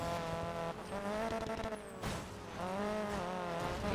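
A car brakes hard and its tires squeal and skid in the Need for Speed Payback racing game, with a loud engine roar and screeching tire tones running throughout, dipping briefly before surging again.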